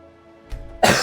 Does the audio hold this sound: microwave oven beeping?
no